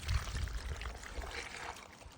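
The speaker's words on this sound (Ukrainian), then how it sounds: "І заливаємо наші томати." Brine mixed with mustard powder and sugar being poured over tomatoes in a jar, a steady close liquid pour that tapers off, no talking.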